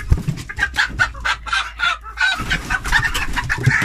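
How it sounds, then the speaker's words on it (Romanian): A white-eared hen clucks repeatedly at close range, making a run of short, rhythmic clucks with no talk. "Avem găina asta, de mii de flori, care are urechile albe."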